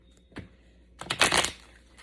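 Tarot cards being shuffled by hand, a brief soft riffle followed by a denser burst of flicking and slapping card sounds, close and alone without talk.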